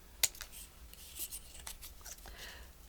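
Scissors snipping paper while making a pocket: a few soft, close cuts and light rustling, quiet and spread over a few seconds with no talking.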